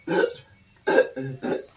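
A drunk man hiccups several times in quick, sharp bursts separated by short pauses, close by.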